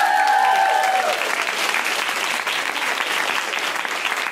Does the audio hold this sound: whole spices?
no